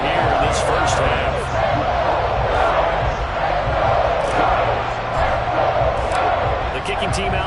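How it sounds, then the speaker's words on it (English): A stadium crowd in an American football video game roars with a constant, loud wash of cheering under an announcer's commentary. "And the crowd is on here in this first half."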